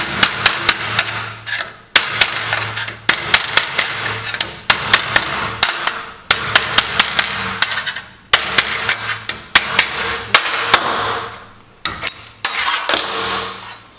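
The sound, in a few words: chiseling open seam-welded joints with a hammer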